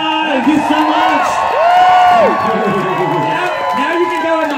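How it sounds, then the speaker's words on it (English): Theatre audience applauding and cheering for a performer at a West End musical show, loud continuous clapping mixed with whoops and shouts, and voices calling out over it throughout. "let's give Ms. Moppe a big round of applause"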